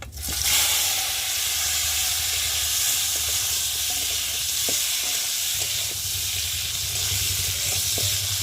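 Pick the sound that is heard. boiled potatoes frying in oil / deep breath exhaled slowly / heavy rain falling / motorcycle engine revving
boiled potatoes frying in oil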